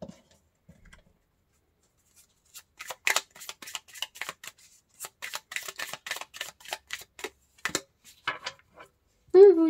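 Tarot cards are shuffled and handled close by, giving a run of quick, papery riffling clicks and slaps for several seconds after a quiet start, with a voice starting up briefly at the very end.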